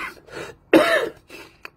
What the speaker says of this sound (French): de temps en temps, j'ai des quintes de toux et qui sont assez pénibles